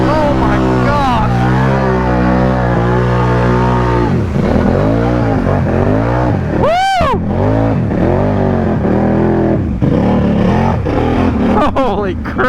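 A Can-Am Outlander four-wheeler engine roars at full throttle through mud, its pitch climbing and falling in loud revving sweeps, with excited voices shouting over it.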